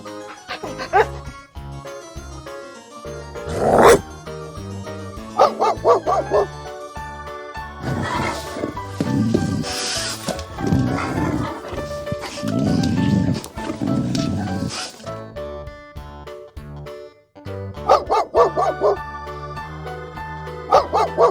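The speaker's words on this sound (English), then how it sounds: "Dog." A domestic dog barks in a few short bursts between stretches of speech and other animal sounds, with jingling tones and loud, busy passages in the middle.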